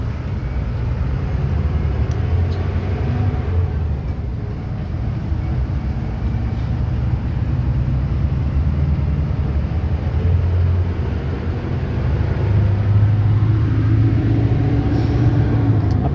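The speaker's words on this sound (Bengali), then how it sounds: "চলছে গাড়ি ঢাকার দিকে, টুয়ার্ডস ঢাকা।" Miami economy AC bus driving along the highway from Comilla toward Dhaka, heard from inside as a steady low road rumble and engine drone that holds constant throughout with no talk.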